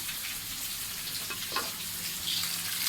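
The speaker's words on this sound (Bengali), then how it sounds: "ভেজে নিচ্ছি এটা" Rohu fish pieces with vegetables frying in a pan of hot oil, a steady close sizzle with bursts of crackle and spatter, no voices.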